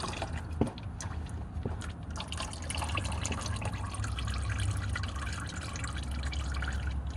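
Fluid drains out of a Dodge Dakota R/T being rebuilt, a steady close splashing and trickling stream with a few drips and light clinks, loud and continuous.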